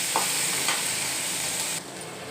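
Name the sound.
garlic, onion and dried red chilies sautéing in a pan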